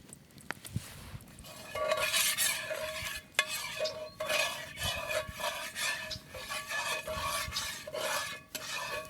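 A light blonde roux of flour and fat is stirred in a pan over heat, with steady rhythmic scraping strokes and a faint underlying sizzle, close and mid-level.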